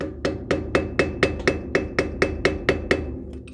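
A hammer strikes a screwdriver to pop off a trailer hub cap, giving a dozen close, sharp metallic taps in a steady, even rhythm, each with a brief ringing tail.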